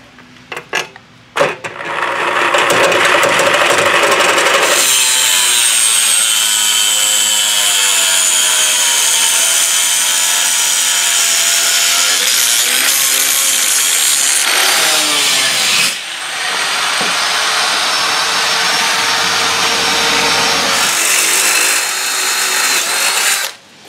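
Loud power saw cutting through aluminum bars, a harsh whining grind that runs steadily, pauses briefly, then resumes for another long cut.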